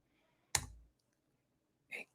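Two separate mouse clicks at a computer during photo editing work, each short and sharp, the first one louder with a brief tail, the second fainter about a second and a half later, in a quiet room.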